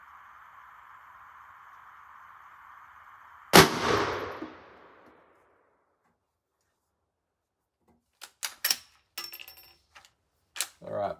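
A .44 Magnum lever action rifle fires a single loud, sharp shot into a ballistic gel block, its report decaying over about a second, preceded by a steady electronic tone and followed later by faint clicks and handling noises.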